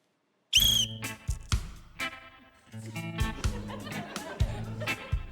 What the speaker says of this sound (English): We'll start on my whistle.